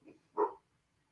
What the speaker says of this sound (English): don't know if you heard the dog bark, but she's barking